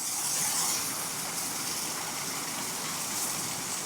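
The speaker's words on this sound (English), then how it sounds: "the spray from the water hitting the bottom rocks throws water" Waterfall spray striking the rocks at the foot of the falls at Poindexter Preserve, a steady broadband hissing rush at moderate level, continuous and unchanging, with no talk.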